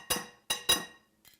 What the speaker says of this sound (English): Take our beaters off,